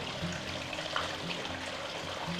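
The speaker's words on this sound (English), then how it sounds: "the pot's filling up right now, and it just overflowed" Hot water at about 80 degrees spills over the rim of a filling pot in a greenhouse heating setup, a soft continuous trickle and pour with a faint low hum beneath, fairly quiet and steady.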